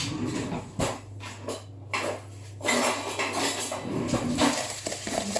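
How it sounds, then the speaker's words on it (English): A wooden spoon creams sugar and butter together in a bowl for orange cookies, making repeated close scraping, knocking and mashing sounds in an uneven rhythm. "So we need to cream the sugar and the butter together. So to do that, I'm going to use a wooden spoon."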